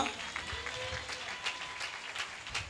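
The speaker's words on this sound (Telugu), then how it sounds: "చప్పట్లు కొడదామా?" A church congregation at a fasting festival gathering claps their hands in a quick burst of scattered, fairly faint applause.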